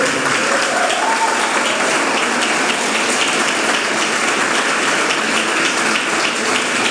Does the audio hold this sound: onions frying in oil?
no